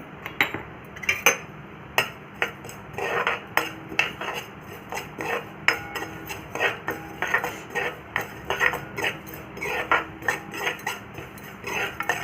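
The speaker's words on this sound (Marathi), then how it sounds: "तुपावरती मी खसखस टाकून घेते" Poppy seeds roasting in a spoonful of pure ghee in a kadhai over a gas flame, heard as a steady run of light metallic scraping and clinks from a spoon stirring against the pan, close and fairly quiet, with no talk.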